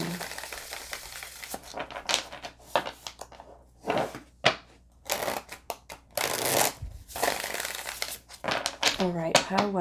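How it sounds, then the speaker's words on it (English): Oracle cards are shuffled and pulled from the deck in loud, close bursts of crisp riffling and crinkling, broken by short pauses, while a voice talks throughout and over the handling. "Let's pull some more oracle cards here."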